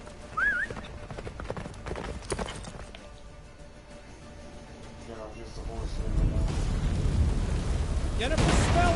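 A horse gallops hard through a blizzard in The Witcher 3: Wild Hunt, with steady, fast clip-clopping hooves under rumbling, booming game effects that swell toward the end.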